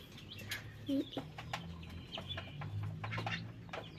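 A chick hatching from its egg makes short, close peeps and soft clucking calls in brief scattered bursts over a quiet background, with a faint voice nearby.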